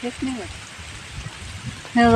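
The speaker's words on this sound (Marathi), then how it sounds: "मुसळधार पाऊस चल झाला" Heavy monsoon downpour over a cotton field during weeding, a steady close wash of rain lasting throughout, with voices talking over it at the start and again near the end.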